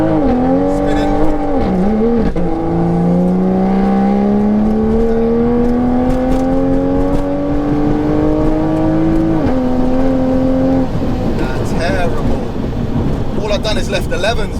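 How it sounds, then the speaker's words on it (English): A 760bhp Mk5 Toyota Supra roars loudly under hard acceleration, wheels spinning as the engine note climbs steadily through a long pull with a gear change near the end, close and continuous, with faint voices beneath. "I short shifted it up to stop it spinning"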